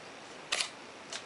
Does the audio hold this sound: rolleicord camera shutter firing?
yes